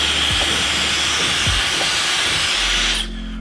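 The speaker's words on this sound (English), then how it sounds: "turn the settings on your hairdryer to make it a cool setting" A steady, loud blowing roar of a hair dryer runs continuously, then drops to a quieter hum near the end.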